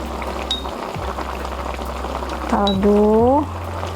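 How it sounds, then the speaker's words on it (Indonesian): Water poured into a pan of broth for Indonesian fried crispy chicken (ayam kremes), giving a steady bubbling, liquid hiss with a brief louder pour near the end; a voice speaks over it. "Kemudian ditambahkan dengan airnya."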